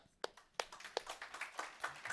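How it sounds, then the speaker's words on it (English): A handful of separate, sharp claps from a small audience at a retro handheld gaming meetup, spaced unevenly and close by, tapering into softer scattered clapping. "give him a round of applause for being a good sport and playing"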